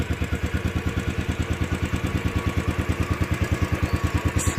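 A Royal Enfield Classic 500 motorcycle runs nearby, its single-cylinder engine thumping in a fast, even beat with mechanical clatter on top, loud and steady, no talk.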